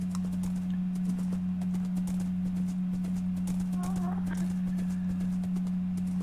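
Horse hooves clip-clopping in a video game, quick repeated steps set against a steady low electronic hum throughout.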